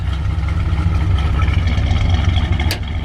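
A 1970 Dodge Coronet 500 convertible with a V8 engine rumbles steadily during a test drive, its low engine drone mixed with constant wind noise, no one talking.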